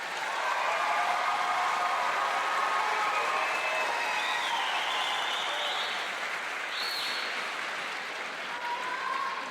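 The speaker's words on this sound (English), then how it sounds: "Let's give them a round of applause." A large audience claps steadily at the Beachwood High School Class of 2022 commencement at Severance Music Center. The sustained applause runs throughout, with a few whistles and cheers rising above it.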